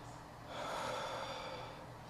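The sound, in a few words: deep breathing after eating a Trinidad Scorpion pepper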